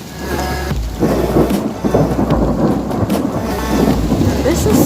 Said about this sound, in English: Thunder rolls with the lightning storm.